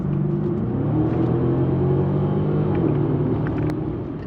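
Mercedes-Benz S-Class coupe grand tourer engine idling and revving; a deep, steady low rumble with a slight rise in pitch, close and loud, with no talking over it.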